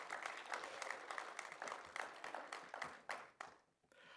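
An audience applauding at a mathematics lecture, dense rhythmic clapping that holds steady and then tapers off at the end.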